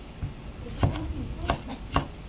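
A knife chops tomatoes on a board in a home kitchen, giving three or four distinct, fairly sharp cuts spaced unevenly over a low background hum.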